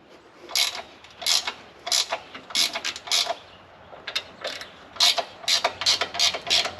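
A hand ratchet backing bolts out of a Split-Fire 1165V vertical log splitter, rapid bursts of close metallic clicking that come in short repeated strokes with brief pauses between them.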